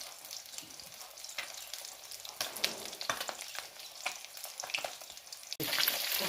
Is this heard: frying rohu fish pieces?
yes